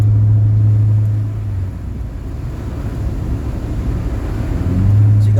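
A car rides along I-95 in Northeast Philadelphia during a snowstorm, giving a steady, close low rumble of road noise and engine drone with buffeting wind. The drone swells at the start and end and eases in the middle, with no talking.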